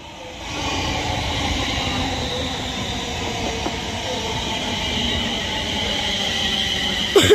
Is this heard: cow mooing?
no